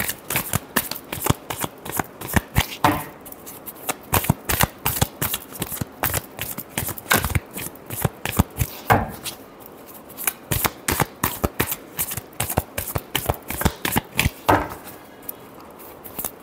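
Tarot cards are shuffled by hand in rapid crisp riffling bursts, repeated many times close by with brief pauses between, no talking.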